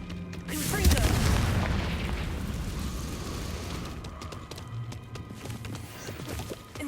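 Confringo spell blast in Hogwarts Legacy: a loud boom near the start that rumbles and fades over a few seconds, followed by softer clatter and scattered impacts.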